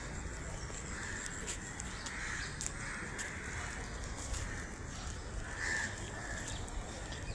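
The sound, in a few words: crows cawing in a garden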